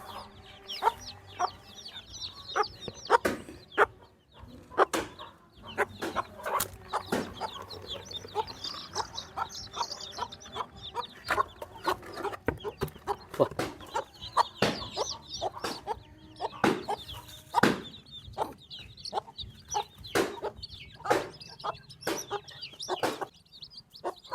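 A hen clucks repeatedly close by while about 26 chicks peep constantly in the background, a busy scatter of soft clucks and high chirps.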